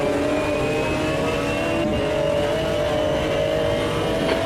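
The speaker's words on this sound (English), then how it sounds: "there's a McLaren, I can hear it." A McLaren GT1 race car engine in Automobilista 2 at Cleveland, a sustained high-revving whine with steady pitched harmonics that rise slightly as it holds close and loud throughout.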